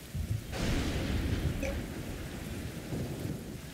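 Thunderstorm in the survival crafting game Aground: a steady roar of heavy rain with a deep rolling thunder rumble building after a brief quieter start, continuous and loud throughout.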